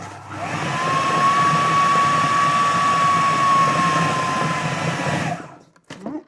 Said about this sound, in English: Just going to cream that together with the processor.